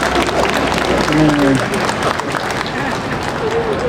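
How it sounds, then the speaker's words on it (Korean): An outdoor crowd claps at a Catholic street mass during a climate justice march, a dense spread of clapping mixed with crowd murmur and a few voices. "오늘 하느님께 큰 박수 한번 보내드리도록 합시다"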